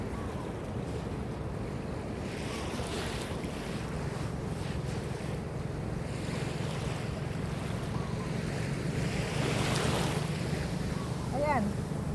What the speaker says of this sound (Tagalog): Ayan, lumalapit na yung alon.